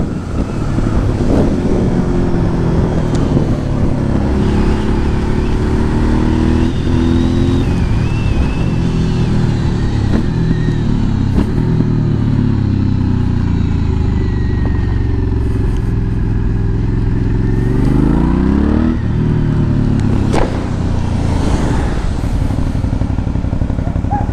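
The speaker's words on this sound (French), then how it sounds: "le bruit au rétrogradage, le bruit du bicylindre, le plum, pendant qu'on baisse un rapport" Aprilia Shiver 900 twin-cylinder motorcycle engine downshifting while riding, loud throbbing exhaust revs rising and falling through gear changes, with wind rush over the microphone throughout.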